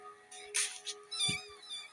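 Several cats meow at a cat party in a video game, sounding as a few quick, clear, high-pitched calls close together over a quiet game background.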